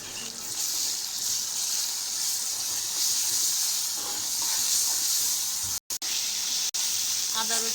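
Ginger garlic paste sizzles in a hot pan, a loud, continuous bright hiss with crackling and spattering, briefly cut off twice near the end, with a voice faintly underneath.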